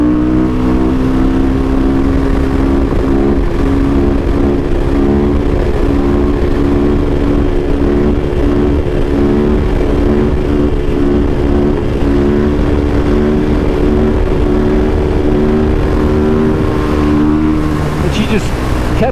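A 2008 Husqvarna SMR 510 supermoto at around 50 mph, its engine droning loud and steady with a strong harmonic buzz, holding revs under heavy wind rush throughout.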